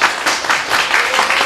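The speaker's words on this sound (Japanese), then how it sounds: "良かったと思う人拍手お願いします" An audience claps to vote for a participant at a tai chi lesson event: one short, steady burst of dense applause from a small crowd.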